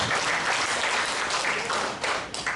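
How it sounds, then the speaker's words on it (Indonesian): An audience at an Indonesian inauguration ceremony for a small-business association in Lampung Tengah breaks into dense, loud applause, many hands clapping continuously for a few seconds. "Tepuk tangan."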